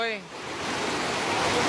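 Floodwater rushes through streets in West Java, a broad steady roar of torrential water that swells slightly over a brief stretch, with no talking.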